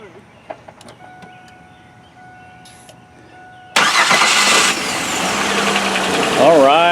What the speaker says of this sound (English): to hear the sound of that brand new starter